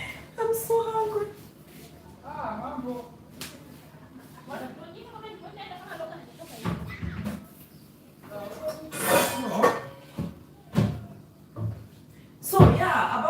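Pans and utensils clatter and knock intermittently in a kitchen while sausages and an egg cook, with scattered taps and sharp clanks mixed with a person talking throughout.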